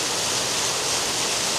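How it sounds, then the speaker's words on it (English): Small waterfall feature in a landscaped park, a steady broad rush of falling water filling the whole moment at close range, with no voices over it. "Another little waterfall feature over here."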